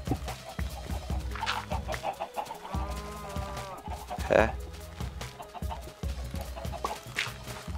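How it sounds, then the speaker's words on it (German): Chickens on a Minecraft chicken farm give several short clucks in the video game, heard behind a man's speech and other game sounds. "da hinter dieser Mauer ist eine Hühnerfarm"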